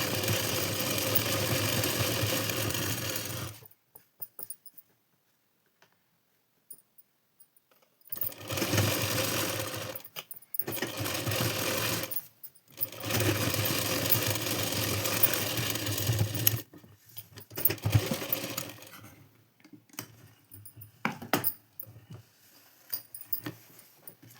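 A sewing machine stitches lace onto a blouse in bursts of steady whirring, separated by short silent pauses and ending in brief stuttering runs, close and clear with no talking.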